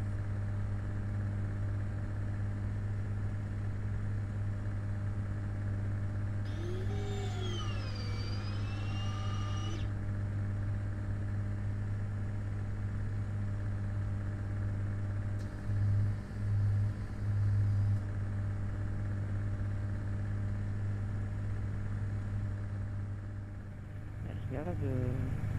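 Light aircraft engine during takeoff, a steady loud droning rumble with a strong low hum throughout, slight changes in tone near the end, heard from inside the cabin with faint radio-like sounds over it.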